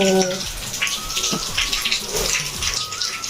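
Rain falling during the monsoon season, a dense, steady patter of drops splashing on surfaces close by, loud and continuous, with faint voices briefly mixed in.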